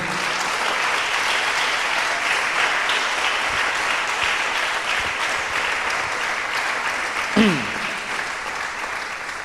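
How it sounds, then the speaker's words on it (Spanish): A church congregation breaks into steady, sustained applause filling the room, with a brief murmur of voices partway through before the clapping carries on to the end. "No sé si le da un aplauso al Señor"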